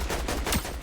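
A burst of assault rifle fire in Fortnite Battle Royale, a dense, rapid rattle of shots that fills the moment without a break.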